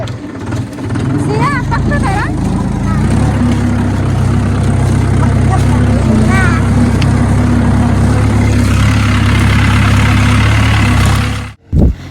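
Tractor engine running steadily in a village sugarcane field during harvest, a loud continuous low rumble throughout with voices and faint bird chirps over it, cutting off abruptly near the end.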